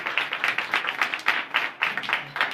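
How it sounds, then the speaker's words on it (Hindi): Steady rhythmic clapping from a church congregation honoring God, a dense run of hand claps that rises and falls in bursts with a brief pause near the middle, fairly close and without talk over it. "तालियां होनी चाहिए खुदावंद के लिए"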